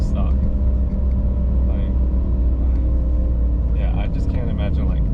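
A Mitsubishi Evo IV engine pulls in third gear with a deep, constant rumble from inside the car, droning steadily while someone speaks over it.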